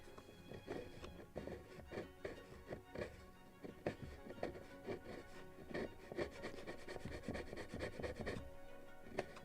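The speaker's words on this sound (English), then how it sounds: "Just to scrape some glues out of here." A small tool scrapes dried glue off a wooden model of the 1776 gunboat Philadelphia, giving a quick run of close, dry, rasping strokes with a short pause partway through.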